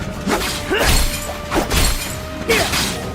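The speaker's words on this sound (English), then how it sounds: "What do the glass breaking sound effects mean?" Glass-shattering sound effects crash out in the Visions of Mana video game, three or four bright breaking bursts spaced about a second apart, loud and close, over a steady game tone.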